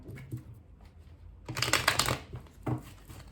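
Cards are riffled and shuffled close by in a few quick bursts of crisp flapping, with soft handling noises between them.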